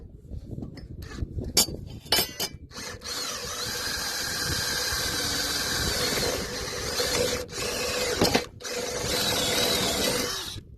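A drill whines as it bores through aluminum, grinding loudly in sustained stretches broken by short pauses and sharp scraping clicks.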